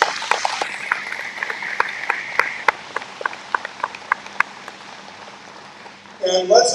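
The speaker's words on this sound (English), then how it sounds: "Round of applause for our judges." Light applause at a 2022 Jackson County Fair coronation, a sparse scatter of claps over a murmuring room that thins out toward the end before a voice takes over.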